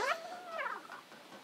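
A cat in the video game Stray lets out a single clear, drawn-out meow that bends upward and then fades, heard alone against near silence.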